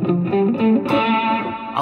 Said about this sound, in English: I've got a little bit of delay on my sound just to make the sound continue